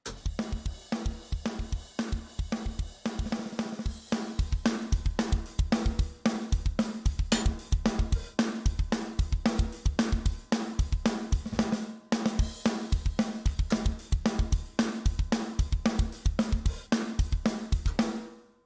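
A programmed drum kit plays a steady, punchy groove of kick, snare and cymbals, loud and continuous with a brief pause midway.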